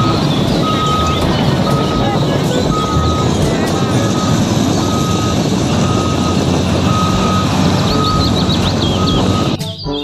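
A toy mining truck sounds its reversing alarm, a loud, evenly spaced beep repeating about a dozen times over a constant motor-like hum before cutting off at the end.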